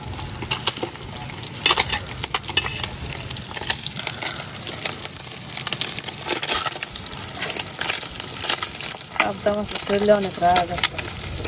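Pabda fish sizzle and crackle in hot oil in a pan, a busy frying hiss with scraping and clinking as the pieces are turned, voices talking intermittently over it.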